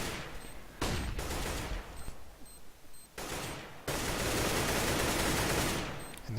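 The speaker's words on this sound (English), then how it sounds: "they're firing in all different directions." Rapid automatic gunfire in Counter-Strike on the de_inferno map, loud sustained bursts broken by short pauses, then a long continuous stretch of fire, close and harsh.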